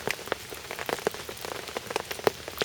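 Rain patters steadily on the surfaces around a lakeside carp fishing spot, a dense field of close, irregular drops with sharper individual taps, and no voices.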